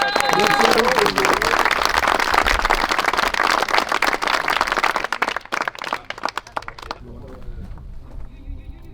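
An outdoor street crowd at a sculpture showing in a French village applauds a sculptor, dense clapping for about five seconds that thins into scattered claps, then a few voices near the end.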